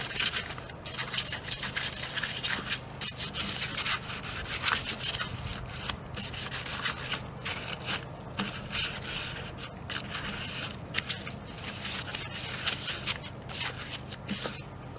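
A PVC deer feeder lid is hand-sanded in dense, continuous, close rubbing and scraping strokes, steady and even throughout with no voices.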